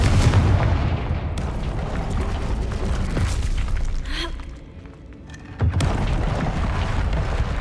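A fiery blast from the Confringo spell in Hogwarts Legacy rumbles under a dense, continuous game soundscape, with a short dip and then a sharp renewed boom near the end.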